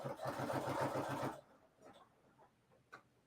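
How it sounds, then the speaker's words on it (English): A sewing machine stitches a fabric edge in a fast, even mechanical rhythm, loud and close for over a second. It then stops, leaving faint handling noises and a soft click. "And so I'm going to sew that edge down."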